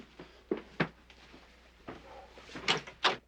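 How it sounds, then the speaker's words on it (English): A door opens with several close knocks and thumps, a rattle of the handle and a latch clack, then scuffing movement, moderately loud in an indoor room with no talk. "I'll get the door."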